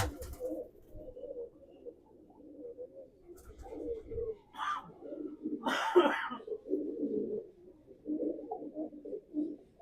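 Bombay breed pigeons coo in low, repeated murmuring phrases through the whole stretch, moderately close, with a couple of brief brighter noises breaking in midway.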